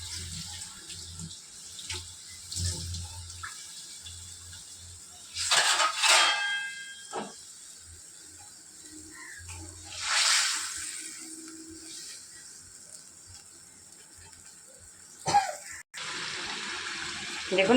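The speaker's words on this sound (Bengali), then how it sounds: "দেখুন, এই ঝোলটা ফুটে গেছে।" A thin silver carp fish curry boils in a pan, giving intermittent hissing, bubbling bursts that swell and fade over a quiet background, with a louder steady rush near the end.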